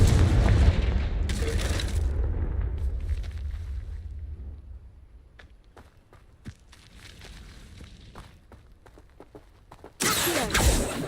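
A Confringo blasting spell explodes in the Hogwarts Legacy video game with a heavy boom, its rumble decaying over several seconds, followed by scattered light impacts and a second loud blast near the end.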